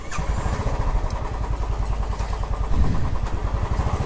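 A repaired Royal Enfield Classic 350 motorcycle engine runs steadily close by, a continuous low thumping idle with a slight rise in revs partway through, no talking over it.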